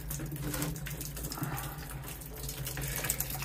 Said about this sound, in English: Let's see how much water comes out of there.